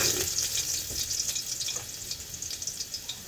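Garlic crackles and sizzles in a hot pan, a steady close-up frying hiss with small pops and scraping stirs, no voices.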